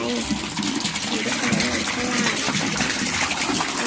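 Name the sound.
water pouring into a catfish pond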